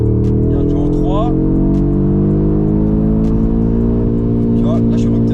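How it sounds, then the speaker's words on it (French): A 2022 Audi RS3 engine held at the rev limiter in third gear, a loud sustained droning roar with stuttering, steady harmonics heard from inside the car, with a voice speaking over it. "Tu vois, là je suis rupteur."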